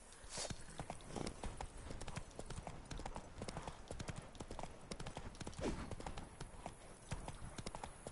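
The horse Roach gallops in The Witcher 3, with a steady, quick clip-clop of hooves throughout and faint ambient game sound beneath.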